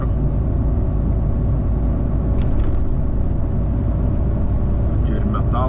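A car driving, with steady loud engine and road rumble from inside the vehicle and a few faint high squeaks over the drone.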